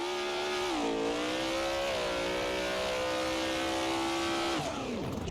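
A drag car engine in the BeamNG racing game revs hard and sustained, a loud continuous harmonic roar that climbs and dips in pitch, then drops away sharply at the end.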